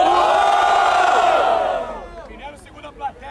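A large crowd at a rap battle final roars and cheers loudly in a sustained wall of voices, then fades out over about two seconds, leaving scattered shouts and whoops.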